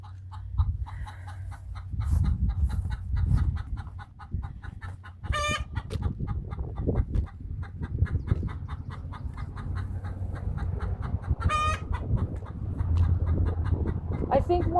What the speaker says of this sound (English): I think one of our hens just laid an egg.